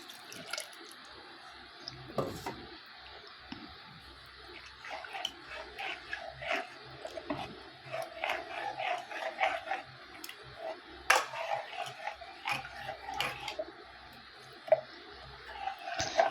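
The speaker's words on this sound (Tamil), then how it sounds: "நல்லா கரண்டியை வச்சு மிக்ஸ் பண்ணிக்கோங்க." A ladle stirs ground lentils with water in a pot, making soft wet sloshing and squishing with scattered clinks against the vessel. The sound is close but fairly quiet, continuous and irregular, with no talking.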